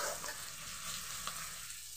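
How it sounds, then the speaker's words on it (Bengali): Thinly sliced onions fry with cumin in a pan, giving a soft, steady sizzling hiss with a faint crackle near the end. "পেঁয়াজটাকে ভালোভাবে ভেজে নেব।"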